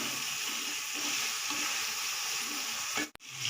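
Ginger-garlic paste hits hot oil over softened onions in a pan for a ginger mutton dish, giving a steady close sizzle and frying hiss that runs throughout, with a brief stir or clatter near the end.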